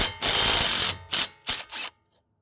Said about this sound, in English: We're going to want to remove this 14 millimeter bolt that holds our brake line in place